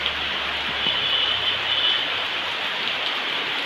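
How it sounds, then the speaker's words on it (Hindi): Dense, even hiss of heavy rain falling steadily, a close and constant wash of water with no voices over it. "बहुत जोर वर्षा हो"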